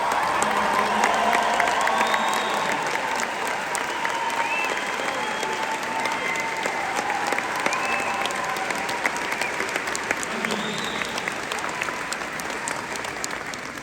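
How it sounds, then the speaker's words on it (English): Assembly audience at a Citizens UK national gathering breaks into sustained applause with some cheering and whoops, a dense, steady wash of clapping that stays loud for the whole stretch. "Let's give her a round of applause"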